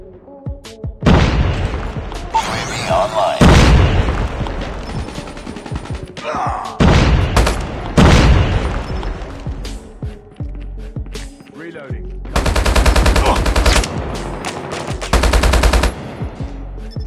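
Automatic fire from an HBR A3 assault rifle in Call of Duty ranked multiplayer, loud sustained bursts separated by short pauses, with booming impacts and occasional voice lines in between.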